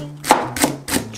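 A knife chopping a stalk of green onion (daepa) on a cutting board while preparing soy-sauce stir-fried thin-sliced pork belly: three or four crisp, evenly spaced chops, close and fairly loud, with no talking.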